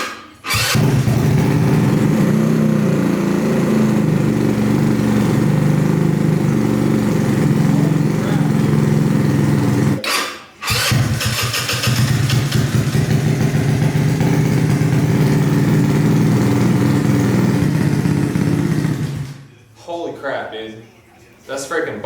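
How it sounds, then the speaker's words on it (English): A Honda Ruckus scooter engine fitted with a 171cc big bore kit fires up for the first time and runs loud and steady close by. It cuts out briefly around the middle, restarts, and keeps running until it drops off near the end. "171cc big bore kit. First startup."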